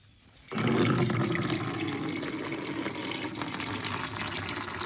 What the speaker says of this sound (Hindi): तो इसी टैंकी से ले जा रही हूँ पानी।